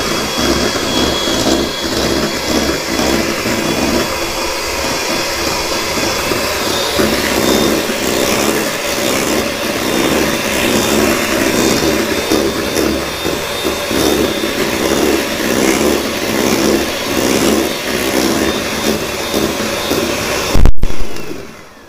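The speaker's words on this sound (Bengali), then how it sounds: "এখন একটা ইলেকট্রিক বিটারের সাহায্যে আমি এটাকে বিট করব।" An electric beater runs at high speed, whipping cream with sugar for cake decorating. It drones loud and steady for about twenty seconds before cutting off abruptly.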